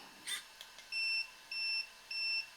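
Three evenly spaced electronic beeps from an Arrma Mini Kraton RC car's electronics, steady and close, after a couple of light clicks.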